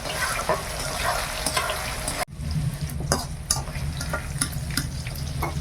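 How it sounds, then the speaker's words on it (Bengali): Soybean chunks frying in hot oil in a pan, a continuous busy sizzle with scattered pops and stirring scrapes, briefly interrupted by a sharp cut before the frying noise carries on. "সোয়াবিনটা ভেজে নিয়েছি, তুলে নেই এবার।"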